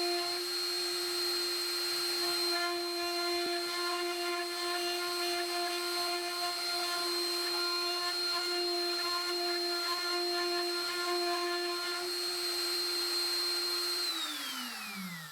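A LUNYEE 3020 Nova desktop CNC spindle milling aluminum whines steadily and loudly for about fourteen seconds, with a sustained high tone, then winds down in pitch near the end as it slows.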